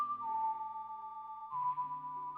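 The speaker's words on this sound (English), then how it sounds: "Is she whistling?" A clear, steady whistled tune plays alone in Legend of Zelda: Ocarina of Time, holding long notes that shift pitch partway through, with a soft synthetic backing.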